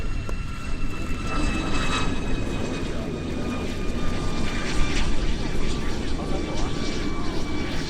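Propeller airplane landing on runway 36 right at EAA AirVenture Oshkosh 2019, a steady droning engine roar with faint tonal whine holding level throughout, amid outdoor crowd and field noise.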